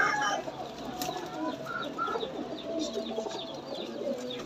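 Pigeons kept for sale cooing and calling in a loft, several soft overlapping coos and chirps at close range over a busy background murmur, with no clear talk.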